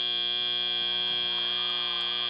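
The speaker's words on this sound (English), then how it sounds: "And that's the buzzer on this match." A loud, steady electronic buzzer sounds at the end of a match at a regional robotics competition, holding one continuous tone with no talk over it.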